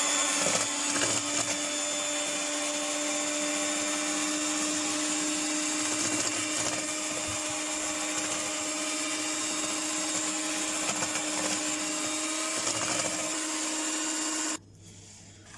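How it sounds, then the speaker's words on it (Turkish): A steady, loud whir of an electric mixer beating cornbread batter continuously for a long stretch, with a slight wavering pitch as it works, then cutting off abruptly. "Yine mikserle çekmeye devam ediyorum."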